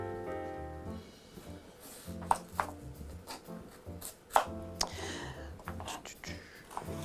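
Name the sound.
knife chopping vegetables for roasting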